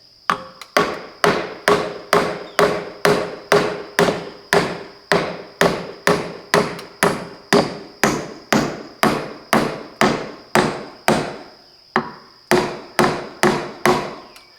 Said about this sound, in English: First thing I'm gonna do is pound a nail in here, so that'll hold it in place.